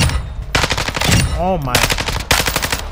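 A Lachmann Sub submachine gun in the Modern Warfare 2 firing range lets off loud, rapid bursts of automatic fire filling most of the moment, while a man exclaims briefly over the shots.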